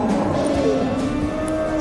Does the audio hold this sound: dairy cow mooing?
yes